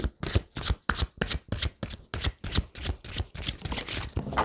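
Tarot cards are handled and shuffled close up, making a brisk, regular series of papery slaps and riffles, roughly three to four per second, with no talking.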